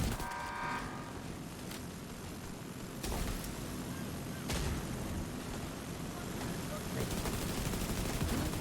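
Heavy sustained gunfire from a boss's minigun during a Division 2 raid fight against the Iron Horse boss, a dense continuous roar with sharper bursts, running under voices calling out to each other.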